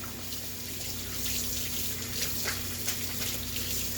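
Running tap water and soft trickling as a nitro RC engine air filter is rinsed clean of soap, steady and close with small splashy bursts.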